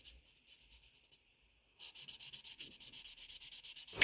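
Quiet, light scraping at first, then a rapid, even back-and-forth rasp of sanding resin jewelry close by, ending in a brief louder scrape.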